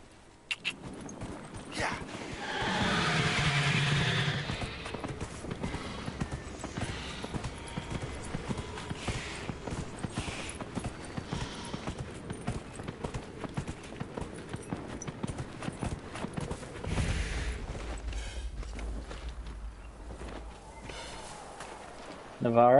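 A horse in the Dragon Age Inquisition video game trots and gallops with repeated hoof clip-clops, moderately loud and rhythmic across the scene, with occasional snorts and game ambience, and a burst of louder noise early on.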